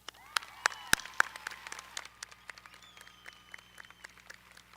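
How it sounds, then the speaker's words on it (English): High school graduating class at an outdoor-scale ceremony claps and cheers for itself; a few close, sharp claps over a diffuse crowd wash of applause, moderately faint overall. "Let's all cheer for that"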